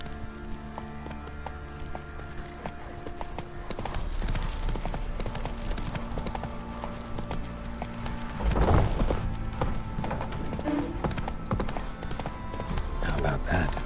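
In The Witcher 3, a horse's hooves clip-clop at a steady walking rhythm, close and distinct, with game music and spoken voices running underneath.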